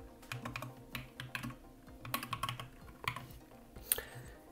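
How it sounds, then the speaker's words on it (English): Fast, uneven keystrokes clatter on a computer keyboard while entering text into a beauty salon website builder, close and clear with short pauses between bursts. "I'm just typing this."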